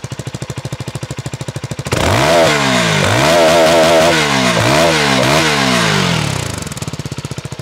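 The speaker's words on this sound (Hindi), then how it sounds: "तो कुछ ऐसी आवाज़ आपको इस मोटरसाइकिल से मिल जाती है" A motorcycle with an underbelly exhaust idles with a steady thump, then revs loudly and repeatedly with rising and falling pitch swings for several seconds before dropping back to a rhythmic idle, heard close up.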